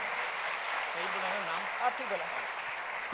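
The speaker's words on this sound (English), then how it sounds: "Big round of applause for Anjum Chopra." Steady applause from an audience at an Independence Day celebration for cricketer Anjum Chopra, a dense, even wash of clapping that holds for the whole stretch, with faint voices just under it.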